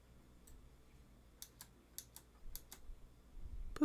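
Keys tapped on a small computer keyboard, a faint sparse sequence of light clicks in a few quick bursts, close and quiet, with no voice.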